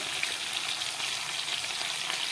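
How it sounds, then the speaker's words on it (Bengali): Fish, potato and eggplant pieces frying together in oil in a kadai, a dense, steady crackling sizzle, close and continuous with no voices. "মাছ, আলু, বেগুন আমি একসঙ্গে সব কড়ার মধ্যে দিয়ে দিলাম"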